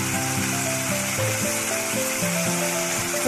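Ground cumin fries in hot oil with a close, continuous sizzle, layered with a steady tonal hum and no talking.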